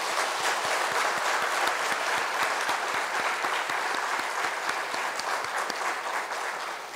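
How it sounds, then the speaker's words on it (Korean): Congregation in a church breaking into sustained, loud applause at a New Year's Eve midnight service, with a steady wash of many hands clapping and a regular rhythmic beat running through it for the whole stretch. "우리 새해를 주신 하나님께 감사의 큰 박수로 영광 올려드리겠습니다"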